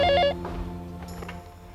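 A telephone rings loudly in an indoor domestic scene from a TV drama, with a bright electronic trill in the first quarter-second followed by a ringing tail and faint background sound.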